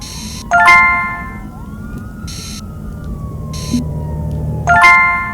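A police siren in a city CCTV surveillance game wails from a distance in one long, steady rising and falling sweep, with short bright electronic interface tones at the start and end.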